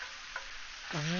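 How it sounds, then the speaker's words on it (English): Chicken stir fry sizzles in a hot pan with black pepper, a steady frying hiss throughout, a soft tick partway, and a louder burst of sizzle near the end. "Got it heating up. Get a nice sizzle going to it."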